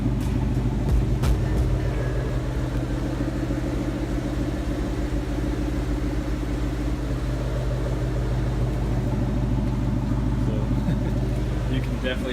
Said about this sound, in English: So this will be the cold start to idle